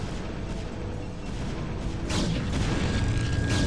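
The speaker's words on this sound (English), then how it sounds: "I heard explosions around the map" Deep, rumbling video game explosion booms roll through a dense, noisy background, swelling louder in the second half like distant explosions.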